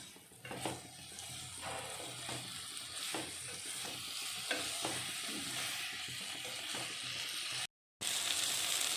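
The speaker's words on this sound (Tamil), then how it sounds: "மூணு நிமிஷம் ஹை ஃப்ளேமில் வச்சு வதக்கிக்கிட்டோம்" Tomato rice masala with turmeric is sautéed on a high flame, a loud, continuous sizzle cut by repeated scraping stirs in the pan, with a brief drop to silence near the end.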